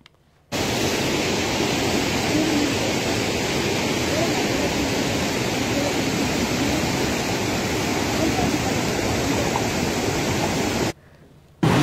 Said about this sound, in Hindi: एक बार हम वो बाढ़ की तस्वीरें हम आपको दिखाना चाहेंगे जहां पर रौद्र रूप ले लिया था और सब कुछ अपने साथ पानी बहा कर ले गया